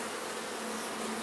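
Honeybees buzzing at an open beehive being inspected, a steady, close, dense hum of many bees continuing without pause.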